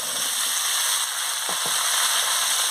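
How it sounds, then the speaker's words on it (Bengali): Pumpkin, potato, eggplant and carrot tipped into a pan of hot oil with spices and ginger paste for a fish-head chachchori fry with a loud, steady sizzle, with two quick stirring scrapes midway and no talk. "আমি এবার আনাজগুলো দিয়ে দিচ্ছি"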